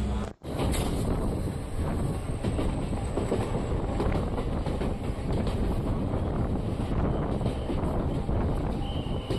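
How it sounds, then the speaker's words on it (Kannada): A packed Ballari–Davanagere DEMU passenger train runs on the rails with a loud, continuous rumble and clickety-clack, plus wind buffeting, as it nears a station. "ನಮ್ಮ ಟ್ರೈನ್ ಈಗ ಕುಡುತನಿ ರೈಲ್ವೆ ಸ್ಟೇಷನ್ಗೆ ಎಂಟ್ರಿ ಆಗ್ತಿದೆ"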